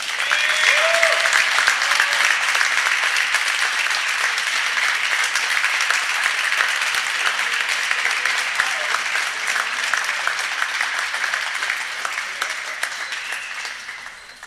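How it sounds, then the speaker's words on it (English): A crowd applauds at a Maranatha Baptist University sports event before an NCAA pre-match ceremony, a dense, steady wash of clapping that holds for many seconds and fades slightly at the end. "let's give everyone a round of applause."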